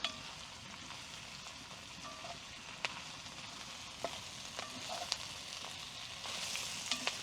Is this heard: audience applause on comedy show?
no